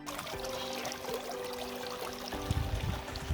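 A small stream at Godawari, Nepal, trickles and pours quietly, its soft, continuous water noise joined by a few low rumbling bursts near the end, with no one speaking.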